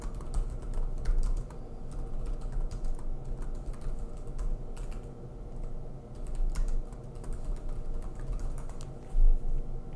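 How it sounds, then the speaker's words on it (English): Typing on a computer keyboard while entering a search: steady, fairly quick key clicks with short pauses, close and soft, with no talking. "So I'm going to go ahead and type that in here."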